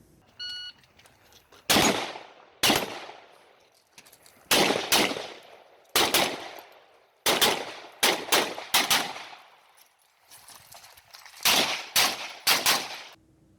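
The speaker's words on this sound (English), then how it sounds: "if I am going to shoot and move, generally it's at 10 yards and under, so I can try and keep up that rate of fire" Competition pistol shooting while moving at close range: sharp, loud shots arrive in quick pairs and short bursts, each ringing out briefly before a short pause, about a dozen reports in all.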